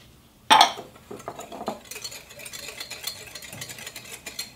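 Cocoa, salt and sugar are stirred in a bowl, starting with a sharp clink and followed by scraping, tapping utensil strokes at close range.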